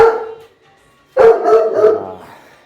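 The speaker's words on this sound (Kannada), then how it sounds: "ಇವಾಗ ನಮ್ಮ ಹತ್ರ 3 ನಾಯಿ ಇದೆ, ಅವೆಲ್ಲ ಬಡ್ಕಂತ" Two bursts of loud, close dog barking from three dogs on a farm, a single bark and then a longer run of barks after a short pause.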